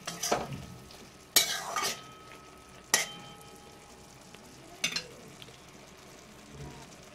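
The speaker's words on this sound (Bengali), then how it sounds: "ভালোভাবে একটু কাঁচা সর্ষের তেল দিয়ে দিচ্ছি এখানে, দিয়ে হালকা নাড়াচাড়া করে" Elephant foot yam stems frying in mustard oil, stirred in a pan with a soft steady sizzle and a few sharp scrapes and clinks of the spoon against the pan.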